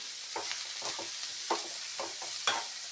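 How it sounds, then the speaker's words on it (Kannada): Paneer fries in ghee in a pan, a soft sizzle under repeated scraping strokes of a spoon, each stir a short burst about every half second, fairly quiet and close. "ಇಲ್ಲಿ ಒಂದು ಚಮಚ ತುಪ್ಪ ಹಾಕಿ ಪನ್ನೀರನ್ನು ಸ್ವಲ್ಪ ಹುರಿಯೋದು"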